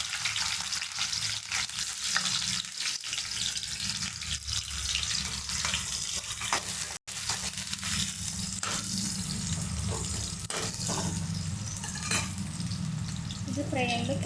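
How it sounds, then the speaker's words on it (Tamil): Onions fry with ginger and chili in hot oil, a steady close sizzle and hiss that continues throughout, with occasional stirring scrapes and one brief dropout midway. "இப்போ ஆனியன் சேர்த்துக்கலாம்."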